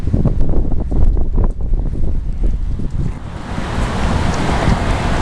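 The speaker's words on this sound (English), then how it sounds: "We don't really have gusty winds like this too often, sustained." Strong, gusty wind from a Pacific cold front buffets a microphone on a street in Mena, Arkansas, near trees and flags, roaring loud and continuous with surging gusts and no talking.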